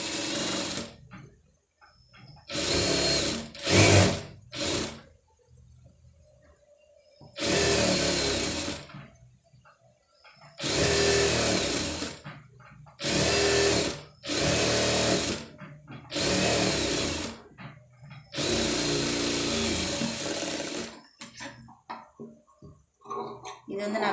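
Sewing machine stitching invisible thread piping onto a dress neckline, running in repeated bursts of fast mechanical whirring separated by short pauses, loud and close.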